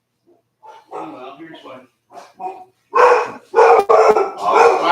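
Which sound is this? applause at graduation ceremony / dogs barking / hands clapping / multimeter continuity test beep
dogs barking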